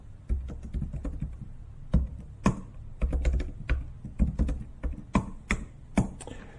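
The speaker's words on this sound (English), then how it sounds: "I'll type it out first." Computer keyboard typing while writing Python code, irregular clusters of close, crisp key clicks with brief pauses and no talking.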